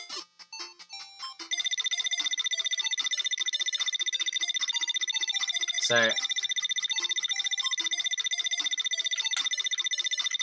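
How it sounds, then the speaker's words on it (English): A loud, steady electronic ringing tone in a Sonic 1 8-bit randomizer game, sustained and continuous through most of the stretch, with brief game sound effects and a short spoken word at the start. "there's an annoying ringing sound that's playing"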